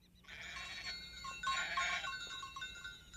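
Cartoon goat bleating in short, bright, nasal calls, two main bursts close together on a farm with goats and a barn, fairly clear and alone with no talk.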